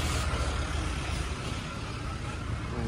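A tractor engine runs steadily while being loaded with soil at a work site alongside a JCB, a continuous low rumbling drone that stays close and even throughout, with no talk over it.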